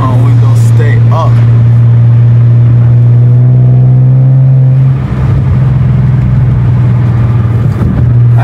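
An illegally loud Ford Mustang drones with a heavy, booming exhaust while driving, holding a steady low tone before climbing as the engine revs, with brief talking at the start.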